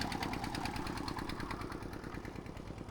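A small boat's engine chugs steadily on the Brahmaputra River with a rapid, even knocking rhythm, close and continuous, with no voices.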